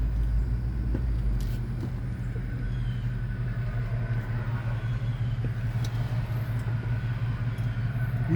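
A car engine runs while burning oil, producing a steady, heavy low rumble that continues without a break, with no voices over it.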